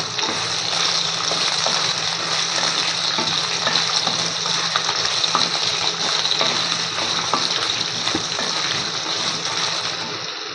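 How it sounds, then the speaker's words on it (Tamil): Continuous loud sizzling and crackling of long-cut potatoes frying in hot oil without water, a dense even hiss with tiny pops throughout, close up. "தண்ணியெலாம் ஊற்றி இது பண்ணாமல் எண்ணெயிலே தான் வதக்குறோம்"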